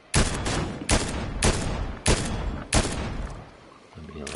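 Weapon fire in Fortnite: five heavy shots in steady succession about half a second to a second apart, loud and close, with a quieter trailing sound at the end.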